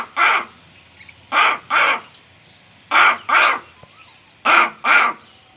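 A human voice imitates a crow cawing, giving loud, close, harsh caws in pairs with short pauses between them, alone against a quiet background.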